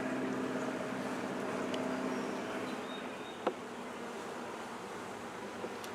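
Honey bees buzz around an open hive in a dense, steady hum that fills the air nearby, with a couple of brief knocks and no talking.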